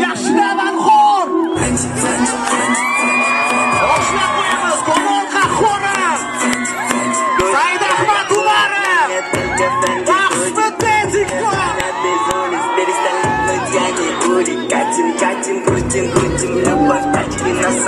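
A large audience cheers, whoops and claps loudly for TikTok stars walking on stage, with excited shouts and crowd babble rising and falling throughout.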